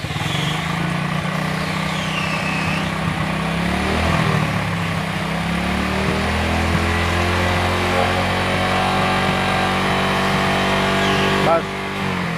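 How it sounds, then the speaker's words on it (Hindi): Hero Glamour motorcycle engine starting and running steadily, with rising revs, loud and close throughout; a person talks over the engine. "और बाइक का स्टार्ट करेंगे"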